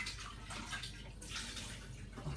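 Tap water runs over a mixing bowl as it is washed in a kitchen sink, a faint, continuous splashing gush with small uneven surges, heard alone without speech.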